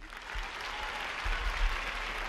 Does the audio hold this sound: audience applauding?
yes